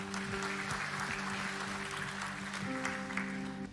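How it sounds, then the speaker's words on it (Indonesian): A church congregation applauds in a large hall, a sustained, even roar of many clapping hands at moderate distance, with sustained keyboard tones sounding underneath. "berikan tepuk tangan buat Tuhan"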